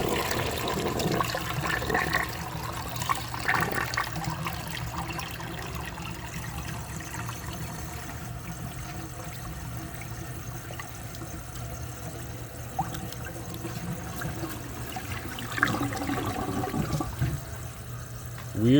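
A 1983 Mansfield Imperial toilet flushes with a steady, close rush and gurgle of water that continues the whole time, with trickling and swirling near the end.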